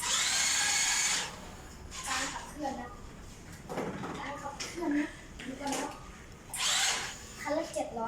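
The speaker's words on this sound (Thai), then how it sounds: "เสียงเครื่องอาจจะดังน่ะท่านผู้ชมนะ ถ้าเกิดเสียงเครื่องดังไปหน่อยก็ขออภัย" A remote-control Isuzu D-Max pickup truck's electric motor whines loudly in two short high-pitched bursts, and people talk close by in the quieter stretch between them.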